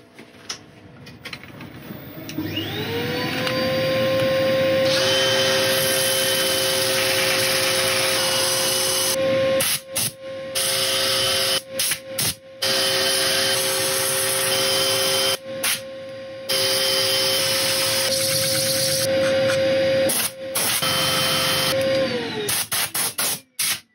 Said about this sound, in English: So next stage is to sand all of this and then look at what finish put on.